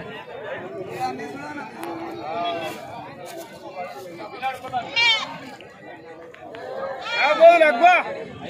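Goats bleat at a busy goat market in Devarakadra, India, with several cries rising over steady crowd chatter and people talking nearby.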